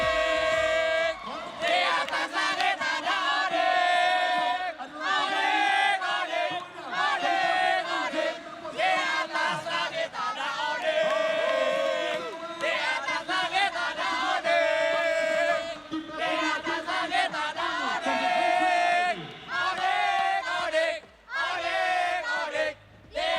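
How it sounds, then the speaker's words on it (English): Esports arena crowd at a Mobile Legends: Bang Bang playoff match chants and cheers for Team Onyx, a loud, sustained roar of massed voices with rhythmic chanting that swells and dips briefly near the end. "can we hear the chant or the cheer for Team Onyx?"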